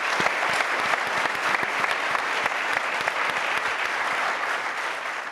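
An audience applauds at a political recognition event in Michigan, steady, dense clapping from a large crowd throughout with no break.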